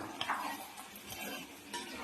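Scraping, clattering stirs of a spoon in a pot of chicken curry, with light clinks and a faint sizzle underneath, close by and continuous.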